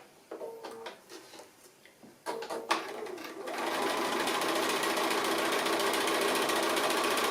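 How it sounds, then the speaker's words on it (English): A sewing machine stitches an appliqué dividing line, first in a few short stop-start bursts, then settling into a loud, continuous mechanical whir up close. "So there's a dividing line that comes right up the centre here, so we'll get that stitched while we're here."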